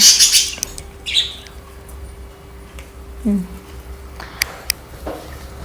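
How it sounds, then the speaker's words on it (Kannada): Pet birds at home give a few scattered, high chirps, one sharp burst at the start and brief tweets later, with faint low murmuring in between. "ಇದು ನಮ್ಮನೆಯ ಹಕ್ಕಿಗಳೆಲ್ಲ"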